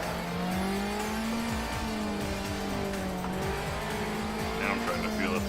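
Car drifting in Assetto Corsa on a touge-style circuit, with a steady high engine drone and repeated tire squeals and skids running continuously and loudly throughout.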